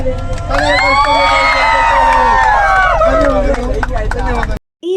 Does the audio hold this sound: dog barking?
no